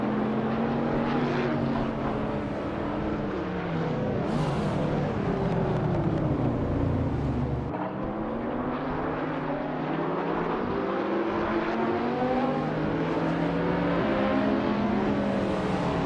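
Racing game engines, led by a 2007 Porsche 911 Turbo, roaring continuously as several cars climb and shift through gears, their overlapping revving pitches sweeping up and down without pause.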